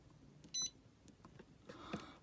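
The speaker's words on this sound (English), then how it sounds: "This is if you want to beep on the buttons." A single short electronic beep from a button press on an Alde heating control panel, clear against a quiet room with faint background noise.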